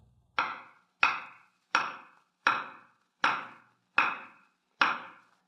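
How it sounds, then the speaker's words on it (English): Seven evenly spaced thumps of a hand pounding on a floor, each a sharp dull knock with a short decay, steady rhythm, close and alone with no talk. "Can you make a pounding noise? Just pound your hand on the floor."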